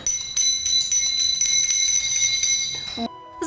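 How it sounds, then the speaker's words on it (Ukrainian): Small brass postal coach bells hung under a harness arch, shown in a postal history museum, ring in a steady bright jingling that fills the clip at close range, ending with a single clearer chime. "придумали ось такі маленькі дзвоники, як церковний дзвін, повісили під дугою"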